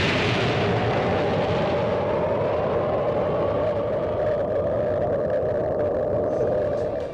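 Atomic bomb explosion scene from the anime film Barefoot Gen, set in Hiroshima during the Second World War: a loud, sustained roaring rumble with a deep low drone, steady throughout without a break.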